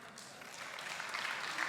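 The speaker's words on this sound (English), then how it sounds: "We got a clap for that." Applause from an awards gala audience, a steady moderate patter of clapping across the short clip, fairly even and slightly swelling toward the end.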